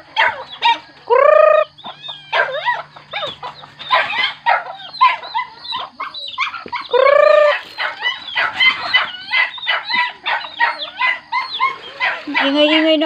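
Chickens cluck busily nearby while a rooster crows twice, loud and close, with a dog's bark and a bit of talking mixed in.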